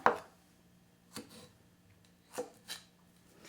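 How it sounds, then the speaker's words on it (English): Knife slicing fresh strawberries on a cutting board, four separate soft chops spaced about a second apart, close and quiet with near silence between cuts. "Just go ahead and cut your strawberries up"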